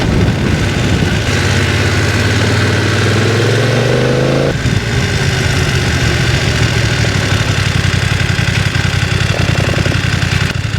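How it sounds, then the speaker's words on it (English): A BMW F 900 XR motorcycle engine drones loudly and up close while riding, its pitch climbing through a gear then dropping and settling into a rougher, steady rumble. "It's so easy to corner on this motorbike."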